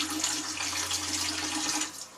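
Tap water runs steadily into a sample bottle for testing after a tropical storm, a continuous close hiss and gurgle that carries on unbroken and then begins to fade at the end.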